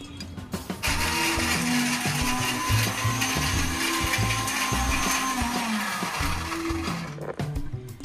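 A mixer grinder whirs loudly as it grinds peanuts for a fasting recipe, a continuous motor roar that starts abruptly and runs for several seconds before cutting off, with a few clunks around it.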